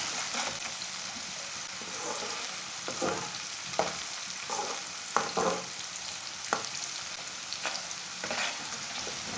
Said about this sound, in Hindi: बारीक कटा हुआ सब्ज लहसुन डाल लेंगे। 2 मिनट तक इसे भून लेना।